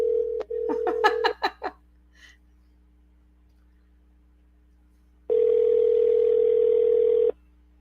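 After a dropped call-in caller, a brief flurry of telephone dialing tones gives way to silence, then a steady, loud telephone tone sounds alone for about two seconds.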